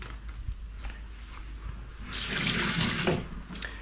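A kitchen tap runs over noodles being washed, starting after a couple of seconds of quiet clinks and small drips, then a loud close splashing flow that holds to the end.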